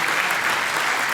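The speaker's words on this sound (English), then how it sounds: "How about another round of applause?" An audience at a formal business awards gala dinner applauds, a dense, steady burst of clapping filling the room throughout.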